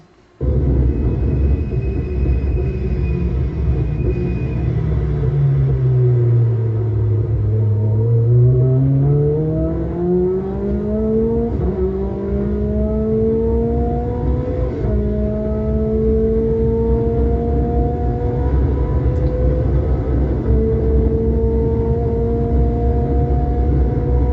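A Lotus Elise race car drives hard with a loud, continuous engine drone whose pitch sweeps down under heavy braking and then climbs again as it accelerates through the gears, heard close with no talking.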